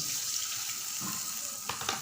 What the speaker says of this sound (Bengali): এখন মাঝে আমি সামান্য একটু পানি দিয়ে দিচ্ছি